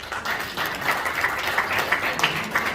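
Loud, steady applause from an audience at a Hindi poetry recital during a Dushyant anniversary literary event, a dense continuous wash of clapping with no talk over it.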